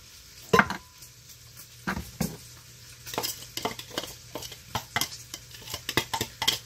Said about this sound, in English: So we're gonna add the onions to this.